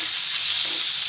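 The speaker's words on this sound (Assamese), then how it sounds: "চাউলখিনি ফ্ৰাই কৰি ভালদৰে ফ্ৰাই কৰি ল'ম।" Rice frying in hot mustard oil for chicken biryani gives a close, steady, even sizzle with no voices.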